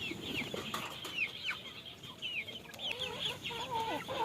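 Brahma chickens on a backyard farm cluck softly and flap their wings in short bursts, with faint chirps and shuffling nearby and no one talking.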